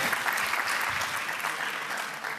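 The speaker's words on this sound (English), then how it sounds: "Please, a round of applause." Conference audience applauding after an accessibility and inclusion presentation, a sustained patter of many clapping hands at moderate distance, slightly fading toward the end.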